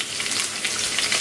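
Chopped onions frying in hot oil with bay leaves, a steady dense sizzle close by that carries on without a break, with no voices.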